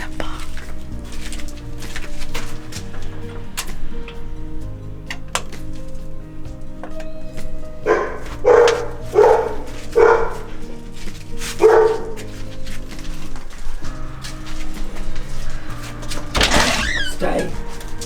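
A pet dog barks behind a door, several sharp barks in a rapid cluster midway, followed by a further yelp, with some speech and background sounds around it.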